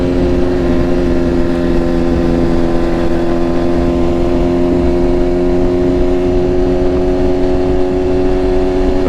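A BMW S1000RR motorcycle fitted with an Arrow Pro Race titanium slip-on exhaust runs steadily, a loud, close, droning engine note holding a constant pitch throughout with no talking.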